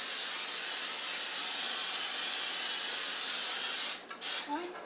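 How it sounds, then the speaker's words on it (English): Cooking spray hisses continuously into a 9 by 13 Pyrex baking dish for several seconds, close and loud, then cuts off, leaving a few soft clicks and clatter. "I'm going to spray my pan."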